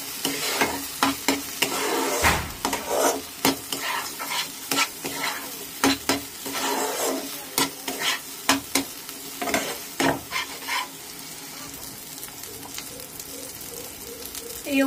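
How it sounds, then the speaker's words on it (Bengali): Banana flower and prawns are stir-fried with a spice paste in a pan. A steady sizzle runs underneath while a spatula scrapes and stirs in quick repeated strokes, and the sizzle carries on alone toward the end. "আবারও আমি একটু ভালো করে কষিয়ে নেব।"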